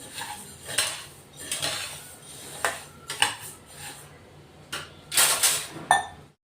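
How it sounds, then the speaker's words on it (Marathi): Coriander seeds roasted in a pan give off intermittent metallic clinks and scrapes of a spoon against the pan, irregular and fairly close, with no talk. "तर असे चांगले खमंग आपण आता हे धने भाजून घेऊ"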